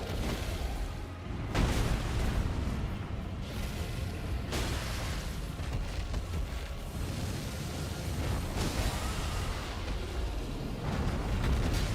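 Heavy booming blasts and rumbling detonations from the video game Elden Ring Nightreign, several loud impacts over a constant roaring, crackling din.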